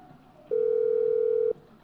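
A telephone line sounds a single steady electronic ring tone lasting about a second, clear and close, with quiet room background before and after.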